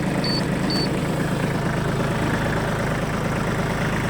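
Japanese Shibaura D215F mini tractor sits idling with a steady, close diesel rumble that holds even throughout, plus two short high beeps early on.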